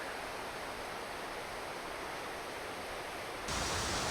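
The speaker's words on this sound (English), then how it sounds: "the waterfall is right underneath, and it's a huge drop down" Den Finella waterfall on Scotland's east coast plunges down a deep drop beneath the A92, heard as a steady, dense rushing roar that swells slightly louder near the end, with no voices.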